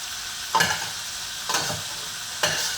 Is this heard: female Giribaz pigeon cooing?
no